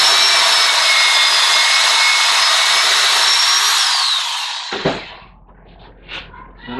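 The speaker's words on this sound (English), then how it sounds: "I have pre-measured the drill bit and set a piece of tape here so I know exactly when to stop" Power drill boring a 5/16-inch dowel hole in wood for a sign, a loud steady high whine running continuously for about four seconds, then winding down and stopping, followed by faint handling clicks.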